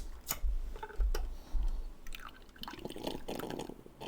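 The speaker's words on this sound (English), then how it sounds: "let's make sure that we get all the water out of the puck" Water dripping out of a spent espresso puck, several close taps and drips in an irregular rhythm, followed by softer, scattered liquid and handling noises, no talk.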